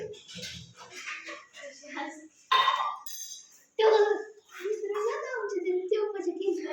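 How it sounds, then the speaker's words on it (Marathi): Dishes and pots clink and clatter in sharp bursts while people talk nearby, with a few louder metallic knocks between the voices. "मम्मीचं इकडे भांडी घासायचं चाललंय"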